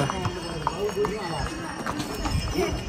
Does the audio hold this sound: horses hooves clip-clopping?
yes